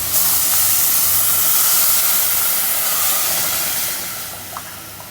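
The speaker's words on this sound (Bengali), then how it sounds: "চালটা ভাজা শেষ, এই যে ফুটানো পানি দিয়ে দেব।" Boiling water hits fried rice in a hot pot for khichuri, producing a loud, steady steam hiss that fades gradually toward the end.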